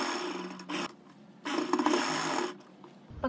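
A sewing machine runs in short bursts while stitching around the stand collar of a kurti, with a whirring motor and a pause between two runs, recorded close.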